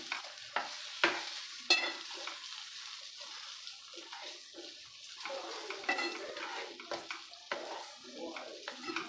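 Beaten eggs stirred in a pan with a couple of spoons of hot oil for egg bhurji, giving soft sizzling and frying under repeated scraping strokes of a spoon against the pan, close and moderately loud.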